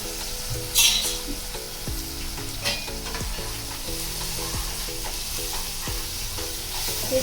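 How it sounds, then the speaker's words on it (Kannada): Onion tomato masala paste frying in a pan, a steady crackling sizzle running throughout with occasional spatula scrapes and stirs, close and even in level. "ತುಂಬ ಸ್ವಲ್ಪ ಫ್ರೈ ಮಾಡ್ಕೊಳ್ಬೇಕು ಚೆನ್ನಾಗಿ ಮಸಾಲೆ. ಫ್ರೈ ಆಗ್ತಾ ಇದೆ"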